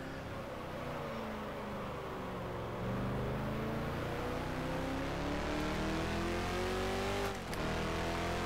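A Lola T70 V8 sports racer driven in rFactor at Solitude drones loudly, its engine pitch sweeping up and down through the gears, with a short burst of noise near the end.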